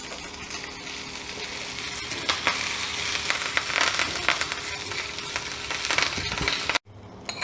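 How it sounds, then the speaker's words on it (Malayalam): Curry leaves and urad dal fry in hot oil for a green chilli chutney served with uzhunnu vada, giving a loud, steady sizzle and crackle with stirring scrapes throughout. The sound cuts off abruptly near the end, then briefly resumes. "അതൊന്ന് മൂത്ത് വരുന്ന സമയത്ത് ഇതിലേക്ക് ആവശ്യത്തിനുള്ള വേപ്പിലയും കൂടി ഇട്ട് കൊടുക്കാം."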